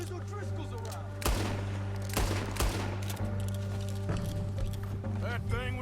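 Gunfire in the Red Dead Redemption 2 video game with several sharp, loud shots spaced a second or so apart over a steady droning background, with voices speaking in between.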